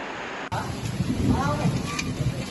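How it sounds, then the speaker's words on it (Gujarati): Steady monsoon rain pours across the rural villages of Mandvi taluka in Gujarat, a dense continuous hiss that begins abruptly after a short pause and holds at an even level, with faint indistinct sounds mixed in. "માંડવી તાલુકા તેમજ ગ્રામ્ય વિસ્તારોમાં સતત વરસાદ છે"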